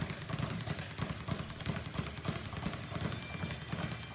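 Rapid, rhythmic clip-clop of a galloping horse, steady and fairly close throughout, imitated by a person's voice.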